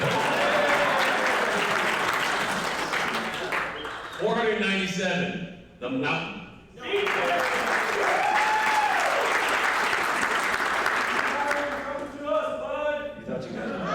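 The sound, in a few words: crowd clapping for teams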